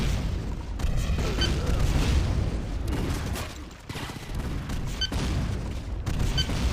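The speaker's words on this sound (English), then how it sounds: "Really good rocket damage from Chiefin." Rocket launcher blasts and explosions in the game Painkiller during a competitive duel, heavy booming bursts layered over dense, continuous gunfire and action noise.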